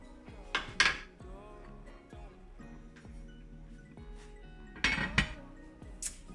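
A lid goes onto a pot of sausage rougail simmering on the stove. There are a couple of sharp metallic clinks and clatters, with a quieter stretch of low kitchen noise between them.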